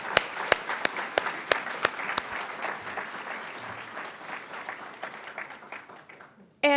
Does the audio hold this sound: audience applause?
yes